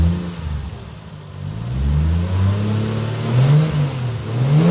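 Toyota 1JZ engine in a car with broken engine mounts revving during a rev check, the pitch sweeping up and falling back in several close, loud blips over a steady mechanical drone.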